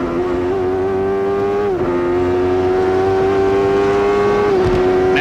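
Onboard sound of Bobby Rahal's CART race car at the 1993 Toronto street race: a loud, close engine holding a high whine, dropping briefly twice as the driver shifts or lifts, then climbing again, with no talking.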